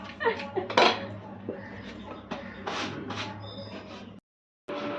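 Dishes, pots and utensils clatter and clink in a home kitchen as they are washed and set down: repeated close metallic knocks and scrapes, with a brief silence near the end.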